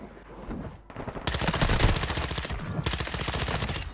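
Rapid automatic gunfire from Bas-P and TEMPUS Razorback weapons in the Warzone 2 video game: two long, dense bursts of fast, evenly spaced shots separated by a short pause, loud and close.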